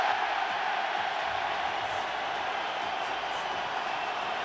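A Brazilian crowd roars at an Olympic boxing final, a dense, steady wash of cheering and noise that holds at the same level throughout.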